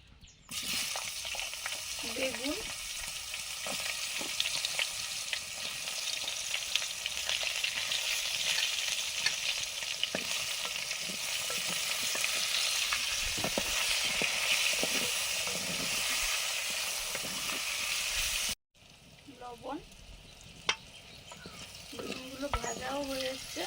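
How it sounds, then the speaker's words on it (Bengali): Vegetables fry in mustard oil in a small iron wok over a lit clay stove, a steady loud sizzle with stirring scrapes that runs for most of the time, then cuts off briefly before quieter sizzling and clatter resume. "উনুন জ্বালিয়ে সর্ষের তেল দিলাম তরকারির জন্য সব সবজিগুলো পরপর ভেজে নেবো"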